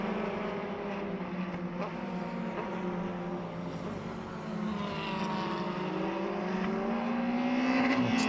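A Gloria B4 race car powered by a Yamaha R1 engine drones past at a classic circuit race at Jarama, a steady mid-distance engine note whose pitch gradually climbs as it builds and grows slightly louder.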